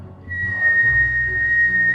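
A single steady, high whistled tone from a person exhaling during a meditation breathing exercise, close and clear, holding for nearly two seconds.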